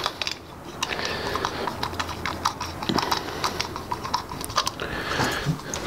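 A torque wrench clicks against an R11S golf club head in a quick, irregular series of sharp, close ticks over a quiet background.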